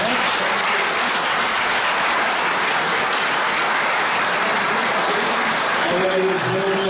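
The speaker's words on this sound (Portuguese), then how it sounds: "Uma salva de palmas para o pastor Antonino" Congregation applauding a pastor retiring after 47 years of ministry: a sustained, even wash of crowd clapping, loud and continuous like rain, with a voice faintly emerging at the end.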